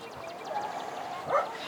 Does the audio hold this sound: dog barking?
yes